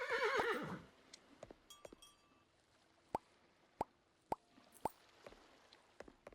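A horse in the video game Old Market Simulator gives a short burst of neighing at the start, followed by a quiet stretch of sparse, evenly spaced clip-clop hoof clicks.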